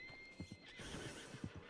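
A horse neighs and whinnies in a short burst, mixed with hoof clip-clop nearby.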